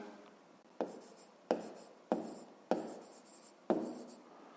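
Pencil or pen writing on paper while working a 5th-grade maths exercise, heard as five quiet, evenly spaced strokes with sharp scratchy onsets that fade away, close and alone with no voices.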